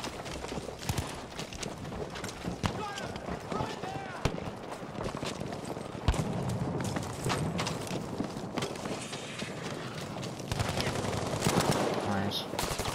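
Gunfire crackles from the right in Battlefield V, a busy spread of rapid shots and bursts across a noisy battlefield, with a voice talking over much of it.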